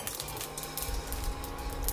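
Fenugreek and cumin seeds roasting in a pan, crackling and popping in a dense, steady patter close by, with a continuous hiss underneath.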